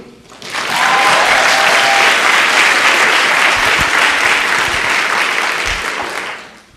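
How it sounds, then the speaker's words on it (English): Loud, dense applause from an audience at a Seattle Public Library immigration training event swells quickly, holds as a full roar of clapping for several seconds, then fades out. "So please give a warm round of applause for Joaquin Wee."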